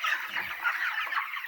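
Broiler chickens on a poultry farm of about a thousand birds cluck and chatter in a steady, dense flock murmur, moderately close and continuous with no talk over it.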